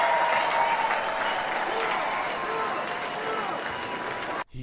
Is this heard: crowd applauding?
yes